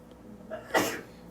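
A single close sneeze with a short inhaled build-up, then a sharp burst, heard in a quiet room during a maths lesson.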